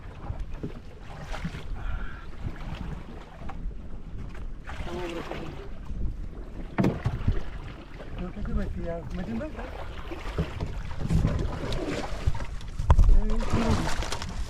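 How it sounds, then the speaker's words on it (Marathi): A small boat moves through water on the way to check crab traps, with sloshing and wind buffeting the microphone, while people talk nearby throughout. "इकडून जाईल होडी"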